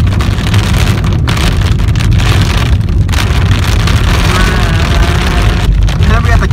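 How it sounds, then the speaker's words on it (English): Dense, constant pelting of large hailstones drums on a car body, loud and close, with a heavy roar of engine and wind underneath. "that hail is massive!"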